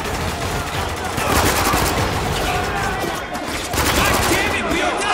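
Dense, continuous automatic gunfire from the war shooter Spec Ops: The Line roars loud and close for the whole stretch, with shouting voices under the barrage.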